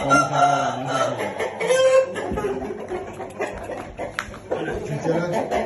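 A rooster, one of the household's fowl, sounds close by among clucks and chicken calls while a person talks over it almost throughout.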